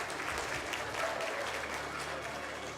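Audience applause at a mindreading and magic show, a dense, steady burst of clapping from the room with no talking over it.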